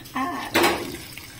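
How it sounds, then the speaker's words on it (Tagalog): Boiled water poured into a cooking pot while making arroz caldo, a short splash and a steady close pour with a metallic ring from the pot, heard alone and fading out. "ilagay ko na itong pinakulo kong tubig kanina"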